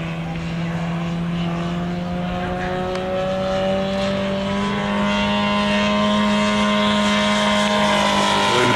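A 50% scale Christian Eagle model plane flies aerobatics at an air show, its engine a steady loud drone with slowly shifting pitch, a commentator talking over it.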